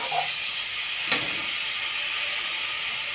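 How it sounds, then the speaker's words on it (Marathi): Chili powder and salt frying in a pan with onion and tomato give a steady soft hiss throughout, with one brief sharper scrape midway and no talking. "तिखट मीठ टाका 1 मिनिट आपण अर्धा मिनिट फ्राय करू आता."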